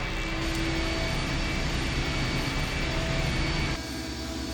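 Engine starting up in the video game I Have No Mouth And I Must Scream: a steady, loud broadband roar like a jet or aircraft engine that holds throughout, dipping slightly near the end, with no talk.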